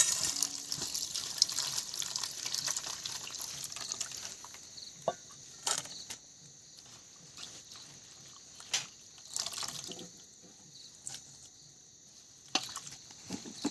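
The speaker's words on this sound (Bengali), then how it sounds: "কুচিয়ে রাখা মেথি শাকগুলো আমি ভালো করে ধুয়ে তুলে নেব।" Running water washes chopped fenugreek leaves in a kitchen, a steady stream broken by intermittent splashes and sharper clatters, with no talking.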